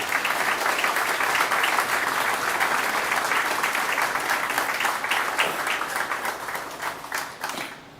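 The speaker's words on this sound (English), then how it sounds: "I'd like to please ask for a quick round of applause for all those people." Audience applause at a firefighter recruit graduation ceremony in Townsville, a steady crowd clapping that holds for several seconds and then thins and fades toward the end.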